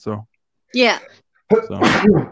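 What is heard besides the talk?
sneeze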